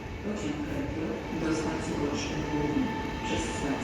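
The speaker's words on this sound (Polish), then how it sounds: "Mamy Elfa 2, który właśnie przyjechał i skończył bieg z pociągiem z Inowrocławia." An electric Pesa Elf 2 multiple unit pulls into Bydgoszcz Główna station at the end of a run, a steady low rolling rumble with faint rail hum throughout, while people talk over it.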